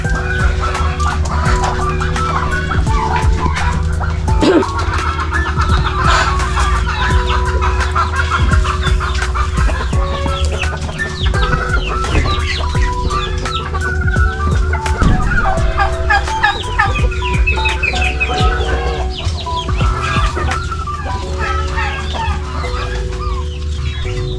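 Chickens clucking continuously near a chick coop, a dense chorus of overlapping clucks and calls with turkey-like gobbles mixed in, steady and close throughout.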